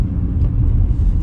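A BMW M2 Competition engine revving up close, a loud steady low rumble with a throaty growl held through the brief moment, with no voices over it.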